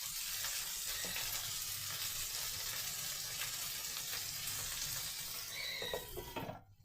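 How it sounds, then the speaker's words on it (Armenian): Steady, dense sizzling and crackling of cauliflower frying in a hot pan, continuous and close, fading out at the very end. "Թող մարմանդ տապակվի"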